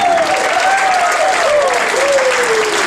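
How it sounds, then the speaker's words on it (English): Crowd applause at a Ric Flair fan event at Tynecastle in Edinburgh, a steady dense roar of clapping running the whole time with a whistled tone sliding over it. "I'd like to give you a big round of applause"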